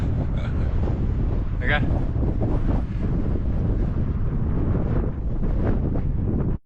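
Strong winter wind sweeps across a Xinjiang desert, roaring and buffeting the microphone in a constant low rumble while a person talks over it.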